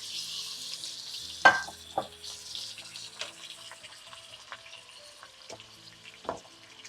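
Shrimp frying in a pan for shrimp Alfredo, a steady soft sizzle with a few sharper spatters and stirring clinks, fairly quiet and with no talking.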